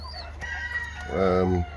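Show chickens, Buff Orpington and Pekin or Cochin bantams, cluck nearby, with one bird giving a short, loud crowing call.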